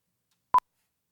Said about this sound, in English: So 1 kHz at -20, render, there's a beep right there.